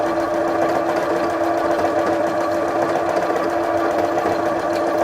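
A Janome 5060QDC sewing machine stitches a decorative pattern at medium speed, with a loud, steady mechanical whir and rapid needle rhythm running unbroken throughout.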